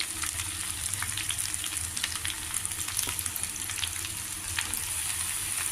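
Cut spring onion pieces sautéing in a pan for a gram flour curry, giving a continuous close sizzle with light crackles and faint stirring, no voices.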